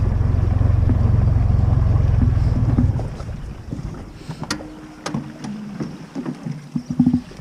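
A dinghy with an outboard motor comes in to land on a palm-lined beach: a loud engine drone cuts out after three seconds, followed by wind buffeting and water sloshing with scattered knocks and creaks, close to the microphone.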